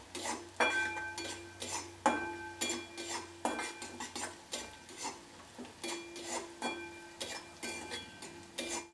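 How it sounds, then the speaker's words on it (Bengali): Grated ginger and garlic frying in a pan for masoor dal tadka, heard mostly as a steady series of metallic spatula clinks and scrapes against the pan with a faint sizzle underneath. "আদা রসুনটা আমার ভালোভাবে কষানো হয়ে গেছে।"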